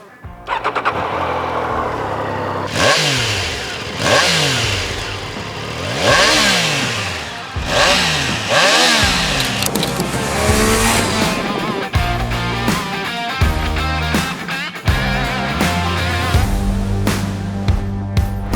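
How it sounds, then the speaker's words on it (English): A Triumph Daytona 660 three-cylinder sport motorcycle engine starts and revs repeatedly, its pitch climbing and falling with each throttle blip, loud and close, settling into a throaty idle. "because this is a triple, it does sound pretty good. Let's take a listen."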